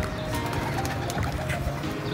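Soft, low pigeon cooing close by, repeated against a steady background hum.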